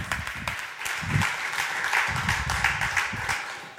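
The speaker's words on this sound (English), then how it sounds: "Big applause." Audience applause welcoming a speaker onto a conference stage, close and continuous clapping with individual hand claps standing out, brief and steady.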